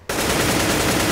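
Continuous rapid automatic gunfire in the game CS:GO during a competitive match on the Cache map, loud and dense, starting abruptly after a brief quiet moment and sustained to the end.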